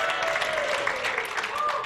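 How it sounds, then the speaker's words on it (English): Audience applause for Pastor John during an illusionist's stage demonstration, a steady wash of clapping for about two seconds with a faint voice and tonal sounds over it. "Give Pastor John a round of applause."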